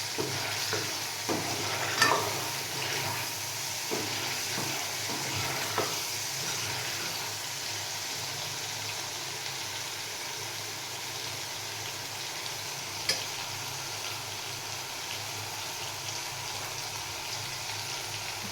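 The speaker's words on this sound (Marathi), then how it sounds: "टमाटर चांगल्या प्रकारे परतून घ्यायचं, म्हणजे त्याचा कच्चापणा जाईल" Tomatoes sauté in a pan for chole, giving a constant close sizzle and frying hiss with occasional stirring scrapes and clinks throughout.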